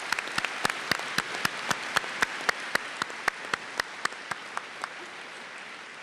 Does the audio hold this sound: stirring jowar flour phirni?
no